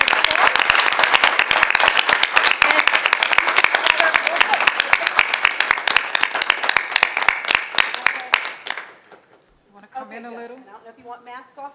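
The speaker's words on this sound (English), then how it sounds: "we'll give you a big round of applause" A school board meeting crowd gives graduating students a long round of loud, dense applause that fades out after about eight seconds, and voices follow in the quiet room.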